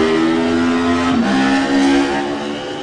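A Honda superbike at the Classic TT road race leaving the start line, a loud, close engine roar that rises in pitch as it revs and accelerates away.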